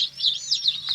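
Baby chicks in a brooder box chirp in a continuous run of high, rising peeps, close and fairly loud, several overlapping calls with no talking.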